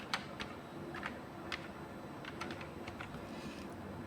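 Keys tapped on a computer keyboard during a Tally ERP-9 accounting lesson, a quiet, irregular scatter of soft clicks over steady room noise, with no talking.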